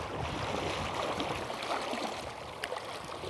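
Cold glacial water of the Mendenhall River flowing steadily, a continuous close rushing and babbling with small splashes, no voices.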